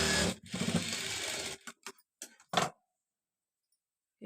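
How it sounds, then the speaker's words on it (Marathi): A sewing machine runs a straight stitch along an inside seam during a garment side fitting: a loud, steady whirring burst of about a second and a half, then a few short clicks and brief spurts before silence. "ह्याला आतून एक सरळ टीप मारून घ्यायची."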